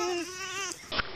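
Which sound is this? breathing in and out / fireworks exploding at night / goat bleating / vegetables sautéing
goat bleating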